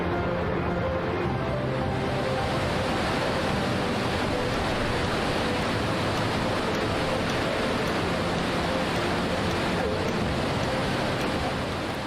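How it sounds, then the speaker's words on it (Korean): Iguazu Falls pours an immense volume of water downward, heard as a constant, heavy roaring wash of noise that stays even throughout, with no speech over it. "엄청난 양의 물이 위에서 아래로 쏟아집니다"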